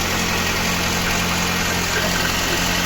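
A VAZ 21083 car engine idles evenly on first start after a cylinder head swap from a 1.5 to a 1118 1.6 head, a steady close hum with no misfire, alone.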